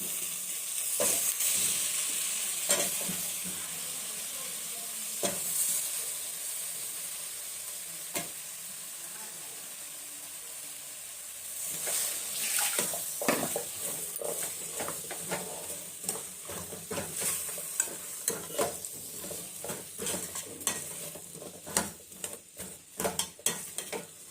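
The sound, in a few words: radish being added to a pan for sambar, sizzling and stirred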